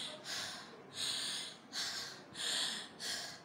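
A child imitates tired panting, making the breathy letter H sound in five long, loud huffs at a steady, slow rhythm, close to the listener.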